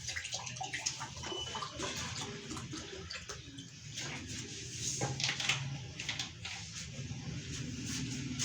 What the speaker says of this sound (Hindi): इसमें थोड़ा सा पानी मैं ऐड करता हूँ।